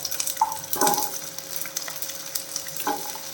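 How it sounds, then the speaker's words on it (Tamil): Small shallots frying in hot oil with dried red chillies in a pan, a steady quiet sizzle with a few brief stirring scrapes, close by, no voices. "இப்போ சின்ன வெங்காயம் நான் சேர்க்குறேன்."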